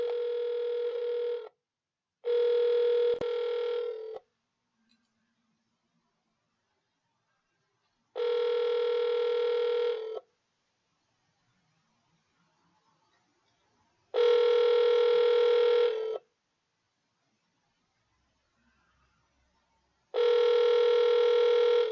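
Telephone call being dialed: several long ringback tones sound in a steady, evenly spaced pattern with silent gaps between them, clear and close, with no voices.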